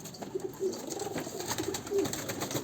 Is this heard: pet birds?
yes